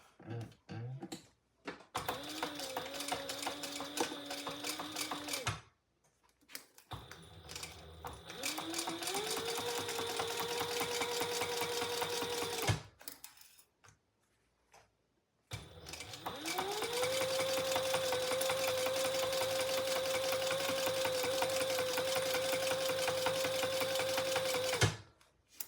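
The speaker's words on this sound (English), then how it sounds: "now I'm just going to top stitch across the top" Sewing machine top stitching across the top of a shoulder bag, running in three long steady bursts of rapid needle chatter and motor hum, separated by short pauses, close and fairly quiet.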